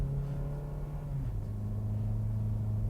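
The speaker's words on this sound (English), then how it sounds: "So I can see the road noise being indicated on the camera." Inside a moving car, a low steady road rumble and tire drone fill the cabin, with a faint engine hum that drops slightly in pitch partway through.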